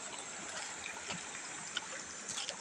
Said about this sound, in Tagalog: Ito po yung ilog po ng Layong Mabilog.